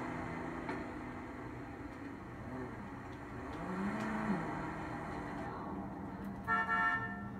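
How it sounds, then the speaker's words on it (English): Game engine sound of the Benefactor Panto, a small three-cylinder city car in GTA, idling with a steady low hum, a brief pitch rise midway and a short horn-like toot near the end. "Pretty nice sound from the throaty little three cylinder"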